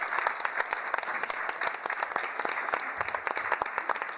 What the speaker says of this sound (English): Please join me in a round of applause to our panelists